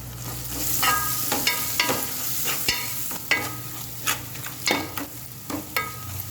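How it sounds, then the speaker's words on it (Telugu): Turmeric and ginger-garlic paste are stirred in a hot pan for egg biryani, with a steady sizzle and a rhythmic run of close spoon scrapes and taps. "చిటికెడు పసుపు, అల్లం వెల్లుల్లిపాయ పేస్ట్ అన్నీ వేసుకొని మిక్స్ చేసుకుందాం"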